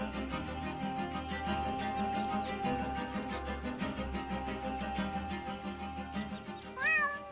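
A cartoon cat meows in the video game Deponia, a short rising cry near the end over steady background game music.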